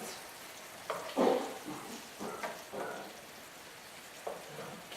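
Chicken breast scaloppine frying in a skillet gives a soft, steady sizzle with a few louder crackling bursts and light stirring, fairly close and with no talking.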